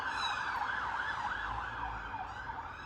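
An emergency vehicle siren wails up and down continuously at a distance, over a low rumble of traffic on a main road.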